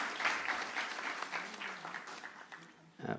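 Audience clapping for gifted exhibitors at a university innovation and exhibition week, a fairly faint, steady patter of hands from a crowd in a hall, thinning toward the end.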